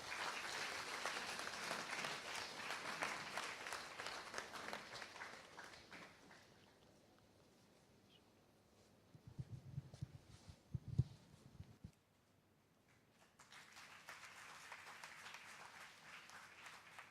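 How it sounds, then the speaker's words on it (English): Applause at an endowment award ceremony as a recipient is called on stage, a crowd clapping loudly at first, then fading out. A quieter stretch with some clattering and thumps follows before clapping rises again. "give him a big round of applause"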